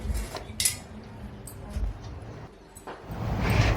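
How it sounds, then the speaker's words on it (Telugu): Mango pickle being mixed with a ladle in a plate or plastic container, a few scattered scrapes and light metallic clinks separated by quiet gaps, with a louder rustling swell at the end. "ప్లేట్లో కానీ లేదా ప్లాస్టిక్ డబ్బాలోనే ఖాళీగా ఉంటే గరిటతో బాగా కలిపేసుకోవాలండి."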